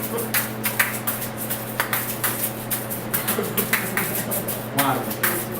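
Shaker shaken in two hands at once, five strokes against seven, giving a busy, interlocking stream of bright rattling hits at a steady pulse over a low background hum, close and moderately loud.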